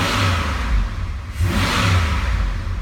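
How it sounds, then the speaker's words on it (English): A used Chevrolet Silverado 2500HD with a 6.0-litre LQ4 V8 revs twice at close range, each rise swelling into a loud roar and falling back toward idle, with no talking. "We'll give her a couple of revs."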